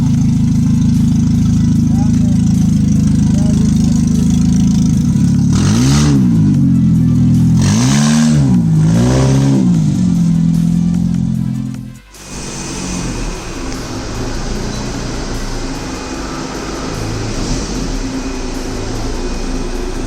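A car engine with no silencer fitted yet idles loudly, then revs up three times in quick succession before settling back into a rough, open-exhaust idle, with people talking nearby.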